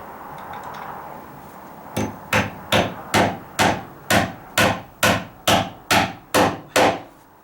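A hammer drives a fat nail through a joist hanger into a deck ledger. About a dozen sharp, even blows land close and loud after a quiet start.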